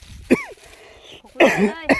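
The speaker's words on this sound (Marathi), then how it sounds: "खोकला लागला लागला खोकला" Two harsh coughs, the first short and the second a longer rasping burst, close to the microphone, with quiet pauses around them.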